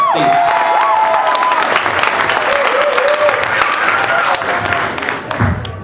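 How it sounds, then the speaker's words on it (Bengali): An audience at an Easter program applauds the choreographer with dense, sustained clapping, a few whistles and cheers mixed in, fading slightly toward the end. "তো তার জন্য একটা হাততালি।"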